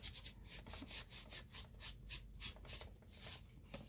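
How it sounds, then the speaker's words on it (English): Leftover paint wiped off a mixed media art journal page with a baby wipe, heard as quick, rhythmic rubbing strokes, about a dozen close swishes in a row. "I want to wipe it off so the leftover paint won't settle in the indentations"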